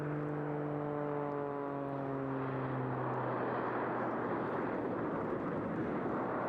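Jet-powered Pitts Special aerobatic biplane at an airshow, a loud continuous roar with a falling engine whine as it climbs, swelling into broad rushing noise.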